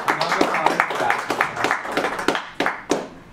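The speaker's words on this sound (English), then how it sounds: "So we clap for John." A small audience claps briskly in a room to welcome a guest, John Shields, at an amateur radio club meeting, a steady patter of hands lasting a few seconds and tapering off.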